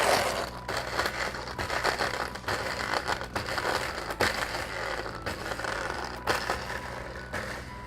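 A Dimond blender on its ice preset crushes ice into granita, a loud, continuous grinding roar with rattling chunks and brief dips as the blades churn throughout.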